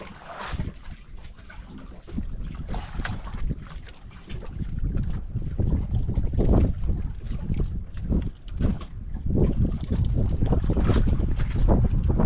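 Strong wind buffets the microphone out at sea aboard a small boat, a loud continuous roaring gust with surging bursts throughout, and no clear talk over it.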